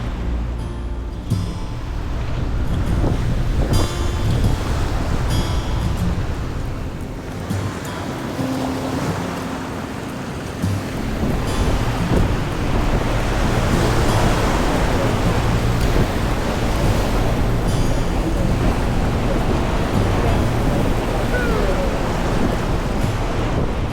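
A sailboat under wind power at about 7.5 knots bashes through ocean waves, with constant loud rushing water, heavy wind buffeting the microphone and periodic surges of spray, near and continuous.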